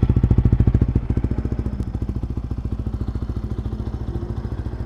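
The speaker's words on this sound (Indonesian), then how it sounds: "Jadi ini knalpot nggak ada DB killernya ya. Jadi full suara knalpotnya aja cuy." Ninja 250Fi exhaust with no dB killer fitted to a Yamaha Vixion motorcycle, idling with a rapid, even putting pulse, loud and close, the first second slightly louder before settling into a steady beat.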